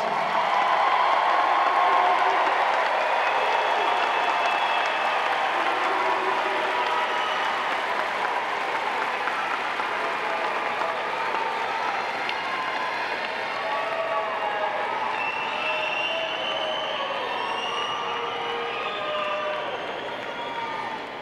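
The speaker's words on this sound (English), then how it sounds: "salute them with your applause" A large commencement crowd at a university spring graduation ceremony applauds and cheers, a broad sustained wash of clapping with scattered whoops, gradually easing over about twenty seconds.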